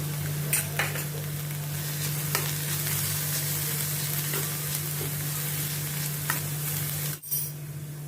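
Grated carrot frying in a pan for aloo veggie packets gives a steady, close sizzle with scattered crackles and light stirring clicks. A faint hum runs underneath, and a brief clatter comes near the end.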